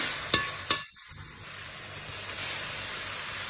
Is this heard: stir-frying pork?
yes